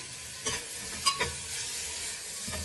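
Spices with turmeric fry in a pan for bisi bele bath, a gentle, even sizzle broken by a few quick stirring clinks, quiet and close with no voices.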